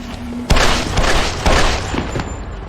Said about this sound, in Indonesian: Reddington mengambil senjata milik anak buah Wujing dan membunuh Jinso